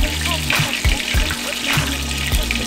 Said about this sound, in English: I'm gonna drain off your oil a little bit.